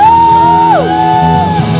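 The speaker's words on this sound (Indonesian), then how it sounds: "Berikan sorak-sorak yang terbaik, tepuk tangan yang terdahsyat buat Tuhan kita" A church congregation at Sunday worship shouts and cheers together, with a loud sustained crowd roar and rising whoops over a steady tone, no distinct claps standing out.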